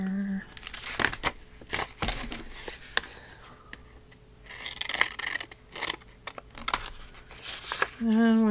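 Scissors cut through a paper file folder in several sharp snips and crinkles spread across the clip, close and moderately loud, with a person speaking at the end.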